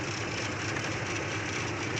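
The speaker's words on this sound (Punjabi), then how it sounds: "ਸੈਂਕੜੇ ਮੋਟਰਸਾਈਕਲ ਸਕੂਟਰ ਸਾਰਾ ਰੋਡ ਭਰਿਆ ਹੀ ਜਾਂਦਾ" Hundreds of motorcycles and scooters fill a crowded road during a flag-carrying procession in Mandsaur, a dense, steady roar of engines close by with no breaks.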